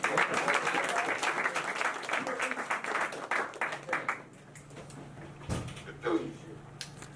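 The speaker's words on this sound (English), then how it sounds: "So give her a clap up." An audience claps and applauds loudly for a poem reading, the applause fading after about four seconds into quieter room noise with a few knocks.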